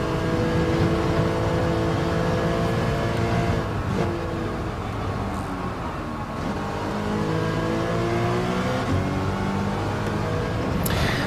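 Racing car engines in Gran Turismo 7 drone continuously, with several overlapping engine tones rising and falling through gear changes and revving, close and steady for the whole stretch with no talk.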